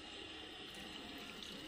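Water runs steadily from a hose pipe while a dog is bathed, a constant close hiss of flowing water with no break.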